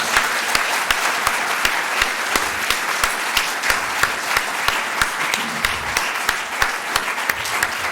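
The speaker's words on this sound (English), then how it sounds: "welcome him with a very big round of applause" A large audience welcomes a swami with loud applause that carries a strong, evenly spaced beat of unison claps through a continuous bed of clapping.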